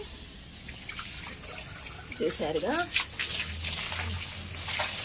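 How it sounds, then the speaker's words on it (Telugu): Water gushes steadily from a hose onto plants, a hissing spray that starts after a short spoken remark and continues to the end. "మొక్కలకైతే నీళ్ళు పోయటానికి పైప్ తిప్పుకుంటున్నాను"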